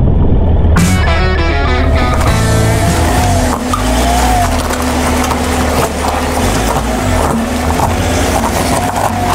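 A BMW E46 330d diesel fitted with a limited slip differential laps a race track on a track day, engine droning loudly and rising through the gears, with squealing tyres, close and continuous throughout.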